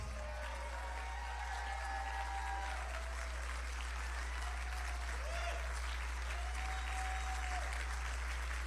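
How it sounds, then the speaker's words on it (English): Crowd applause at a senator's victory speech greeting the senator's siblings on stage: continuous clapping, fairly distant under a low steady hum, with faint cheers and whistles rising now and then. "Let's give them a round of applause."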